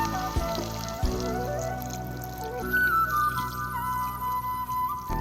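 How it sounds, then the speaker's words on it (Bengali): About two cups of hot water poured into a fish curry spice mix in oil, a steady close pouring stream that runs for several seconds and rises slightly in pitch as the pan fills. "এবারে এই অবস্থায় আমি জল এবারে এর মধ্যে 2 কাপের মতো গরম জল অ্যাড করছি।"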